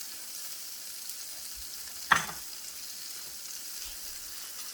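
Sausage frying in a pan gives off a steady close hiss, broken midway by one sharp scrape or clack of a utensil as the links are moved.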